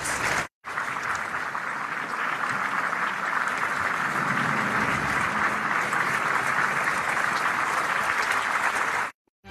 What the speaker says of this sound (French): Les applaudissements du président pour les soignants et pour ces jeunes du service militaire adapté